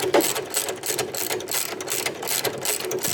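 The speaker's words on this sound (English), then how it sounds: "Use my socket and we're going to go lefty-loosey." A socket ratchet loosens a nylock nut on the wheel pivot axle of a cross trainer, giving a steady run of quick, close metallic clicks for about three seconds with no talking.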